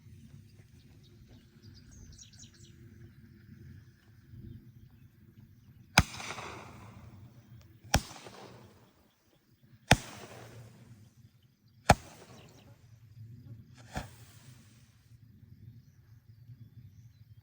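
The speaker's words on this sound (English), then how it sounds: "Color Comet Tail by Sky Bacon" Five sharp firework launch bangs from Sky Bacon Color Comet Tail shells go off outdoors at steady intervals of about two seconds, each followed by a short fading hiss. A quiet ambient background sits before and between them.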